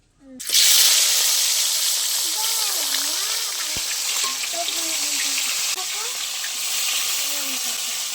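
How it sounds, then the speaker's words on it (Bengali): Hilsa fish pieces frying in hot oil, a loud close sizzle that rises after a quiet start and holds steady, with faint whistling tones over it. "মাছগুলো যেগুলো কলা দিয়ে রান্না করব সেইগুলো আমি ভেজে নেব।"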